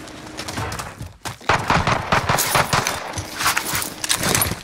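Bursts of rapid machine gun fire in a shooter video game, loud and continuous with short gaps and uneven rattling clusters, no voices.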